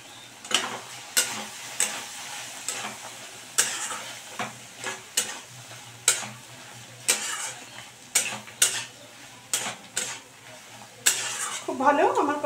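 Raw tomato mixture stirred in a pan, with regular scraping strokes of a spoon against the metal about once a second over a soft background sizzle.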